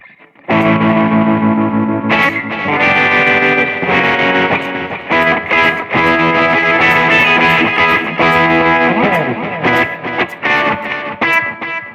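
Electric guitar through an Ibanez Tube Screamer overdrive on a BOSS eBand JS-10 playing a chord-heavy riff, thick and slightly gritty, with sustained strums and sharp attacks throughout.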